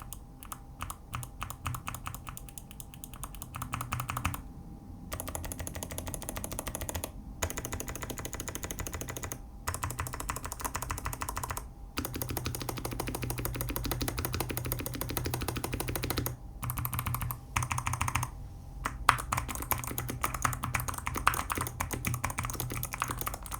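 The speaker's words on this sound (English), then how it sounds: "Starting with these Clicky Kailh summer switches, these are a very different experience to what I'm used to." Rapid typing on clicky Kailh switches in a low-profile aluminum Akko Air 01 keyboard, crisp sharp clicks in fast bursts separated by short pauses, close and alone.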